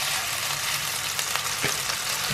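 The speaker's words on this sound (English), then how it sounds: "It says to break it up as it's frying." Steady sizzling of vacuum-packed beef frying in a pan, a continuous crackling hiss with occasional stirring scrapes as it is broken up, close and moderately loud.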